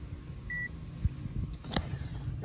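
A multimeter gives a short, thin continuity beep while fuses are tested on a service call, one brief tone among clicks and handling noise in a quiet room.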